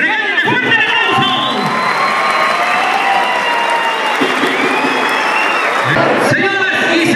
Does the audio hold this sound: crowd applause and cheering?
yes